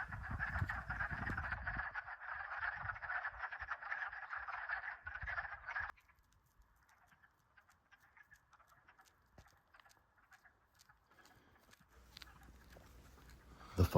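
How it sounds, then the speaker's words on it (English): Frogs croak in a dense, loud chorus from a pond on a restored 1800s farmstead for about six seconds, then the calling stops abruptly, leaving near quiet with scattered faint sounds. "Frogs covering the surface. Their calls filling the air."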